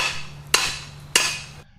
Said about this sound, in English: even if I hammer it down